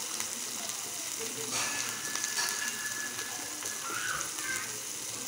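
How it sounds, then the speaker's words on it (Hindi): Noodle ingredients frying with masala in a pan, giving a continuous bright hiss of sizzling that stays loud and steady throughout, with no talk. "अब मैं इसे दो तीन मिनट भूनूंगी"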